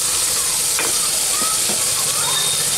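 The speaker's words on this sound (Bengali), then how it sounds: "এখন এই মশলাটাকে আমি 2 মিনিট মতো একটু কষিয়ে নিচ্ছি" Spice paste of turmeric, cumin and coriander powders with chillies fries in oil inside a pressure cooker for a fish curry, giving a steady broadband hiss with a few brief stirring scrapes, close and fairly loud.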